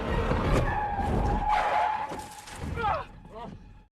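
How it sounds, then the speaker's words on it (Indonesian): A speeding car brakes hard, and its tires skid in a long loud screech that is close and sustained before fading into a few short squeals and then silence. "Zora mengencangkan kecepatan mobil lalu direm yang membuat Ambre gasruk"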